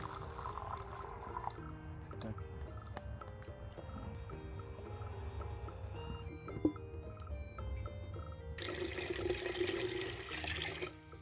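Rice being rinsed in water before cooking: sloshing, pouring and swirling water with occasional clinks of a pot, close and continuous, with a radio or music faintly in the background.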